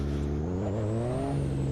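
A car engine in the Assetto Corsa racing game on PS4 revs up in a rising, harmonic whine, loud and close, with no talk.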